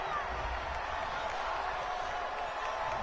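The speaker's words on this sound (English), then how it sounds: "This home crowd, they're happy with that call." Home crowd in the Madden 20 football video game cheers a penalty call, a steady broad roar with faint applause holding constant throughout, loud and continuous at mid distance.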